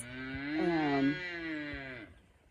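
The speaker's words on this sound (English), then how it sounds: "I've got cows that I'm weaning right now, so they're all a little fussy." A weaned cow on a farm gives a single drawn-out moo, rising and then falling over about two seconds, fairly near and alone against a quiet background.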